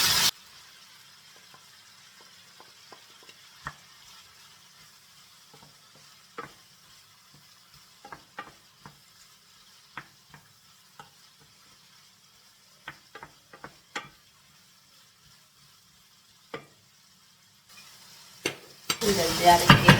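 Meat and onions frying in a pan while being stirred, with scattered soft clicks and scrapes over a faint steady sizzle that builds to a louder burst near the end.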